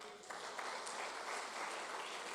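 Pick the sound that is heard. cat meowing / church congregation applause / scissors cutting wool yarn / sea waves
church congregation applause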